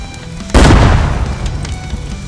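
A sudden heavy boom from an enemy tank firing in a combat zone, a single loud blast followed by a long rumbling decay.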